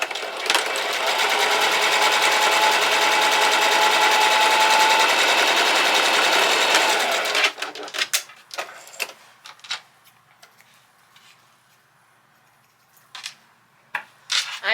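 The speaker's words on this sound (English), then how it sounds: "We're going to put this on a straight stitch. We're going to sew one more." A Singer Heavy Duty sewing machine runs a straight stitch in one long steady whirring burst lasting several seconds, close and loud, then stops, leaving faint clicks and handling noises.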